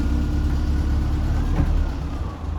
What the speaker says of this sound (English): I think this might be the quietest Land Rover we've ever built